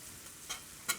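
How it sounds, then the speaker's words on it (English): Latkes sizzle in hot oil in a pan, a quiet crackling fry with two brief sharper spits. "you're gonna let these fry on both sides until they're golden brown and crispy"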